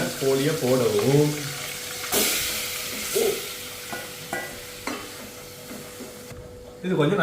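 Marinated chicken goes into a pan of hot butter and sizzles nearby, with scraping and stirring clatter. A voice speaks briefly at the start.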